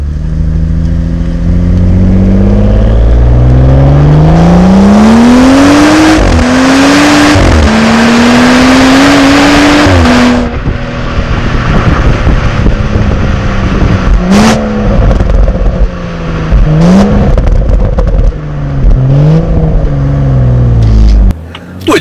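A BMW M235i with its stock straight-six turbo revs loudly and repeatedly, stock exhaust before any downpipe mod, the engine note rising and falling in several close, sustained pulls with no talking.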